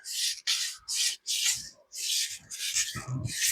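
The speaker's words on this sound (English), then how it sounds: "This PVC sands real quick." Sandpaper rubs over PVC pipe during a waterline repair in repeated short back-and-forth strokes, close, rhythmic and harsh.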